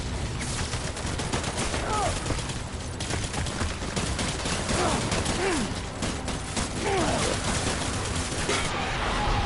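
Assault rifle fire in the video game Death Stranding rattles out as dense, continuous bursts, loud and close, with mechanical clicks and occasional voices mixed in.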